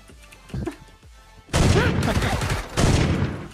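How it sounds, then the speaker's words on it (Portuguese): Heavy gunfire in PUBG Battlegrounds, with a few scattered shots first and then loud, dense bursts of rapid fire with impacts, close and continuous. "Mano, é muito tiro, velho!"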